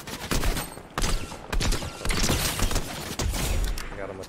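Repeated bursts of gunfire in the Fortnite video game, loud and close, with sharp volleys starting and stopping every second or so and a steady rattle between them.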